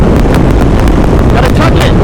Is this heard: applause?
no